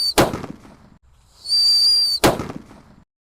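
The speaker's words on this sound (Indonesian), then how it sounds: "Ini mercon buntulan kertas request kalian." Two sharp cracks from a whistling paper-wrapped firecracker (mercon buntelan kertas) bracket a shrill, steady whistle lasting under a second, loud and close outdoors.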